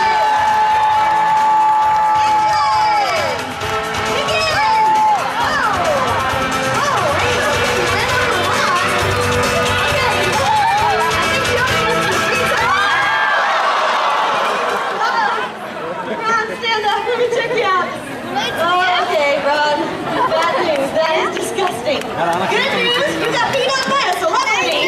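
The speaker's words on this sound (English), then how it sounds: "Give him a big round of applause." Crowd at the Universal Studios Hollywood Animal Actors show applauding and cheering, a dense wash of claps, shouts and chatter filling the space, with a host's amplified voice talking over it throughout.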